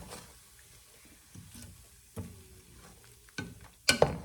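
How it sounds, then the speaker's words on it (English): Sloppy joe meat simmering with Dr Pepper in a pan, a soft continuous sizzle broken by intermittent stirring scrapes and clatters, louder bursts toward the end; close and without talk. "Look at that sizzle up."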